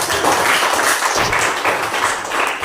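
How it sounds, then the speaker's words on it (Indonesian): A classroom group of students claps together, a dense, fairly loud patter of many hands that holds steady from start to finish with no talk. "kita tepuk tangan sekali lagi untuk kelompok kita"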